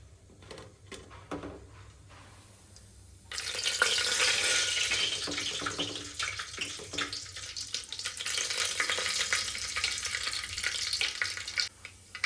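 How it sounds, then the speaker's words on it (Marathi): Cumin, mustard seeds and whole spices crackle and sizzle in hot oil for a dal khichdi tempering, starting quietly with faint clinks, then erupting into loud, steady spattering frying that carries on with stirring until near the end. "जिरे मोहरीला चांगला तडका बसल्यानंतर आपण याच्यामध्ये हे जे खडे मसाले घेतलेत ते टाकायचे आहेत"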